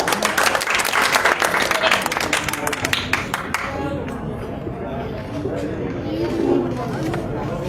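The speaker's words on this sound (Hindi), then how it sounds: "जोरदार तालियां" Loud crowd applause rings out for a few seconds, then dies down into murmuring chatter and background noise of a gathering.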